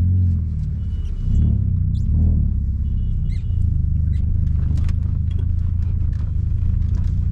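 Hyundai i20 with an Automech exhaust and Stage 2 tune cruising gently, a steady low engine rumble and drone held close and loud with little change in pace.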